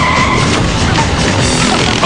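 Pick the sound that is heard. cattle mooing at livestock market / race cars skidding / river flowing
race cars skidding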